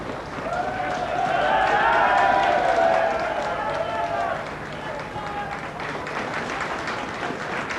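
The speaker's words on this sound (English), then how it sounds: "getting a tremendous reception from the crowd here at Liverpool" Large racecourse crowd at Liverpool cheering and applauding a 12-year-old steeplechase winner after the 1987 Whitbread Gold Label Gold Cup Chase, a broad roar that swells and then holds steady beneath a commentator's voice.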